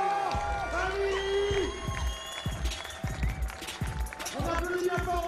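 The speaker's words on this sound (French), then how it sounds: "On applaudit encore aussi à la belle Merlin-Lemoine avec cet exploit de 5 fois 5 minutes" A crowd applauds and cheers after a contest between Annabel Merlier Lemoine and Flore Hani, clapping steady under a loud announcer speaking over it.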